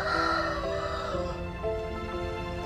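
A fighting rooster crows loudly and close by, one drawn-out cock-a-doodle-doo with harmonic calls that fill the whole short moment, with no talk over it.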